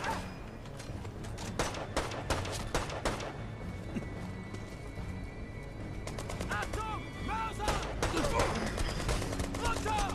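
Gunfire in the Brothers in Arms 3 video game: sharp shots and rapid bursts crackle in clusters, loudest early and again near the end, under men's casual chatter.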